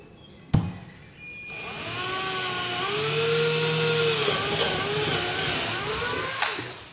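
A power drill bores through a plexiglass sheet into wood for a beehive observation window: a sharp click, then a steady, close motor whine that rises slightly in pitch and holds for several seconds before ending with a small knock.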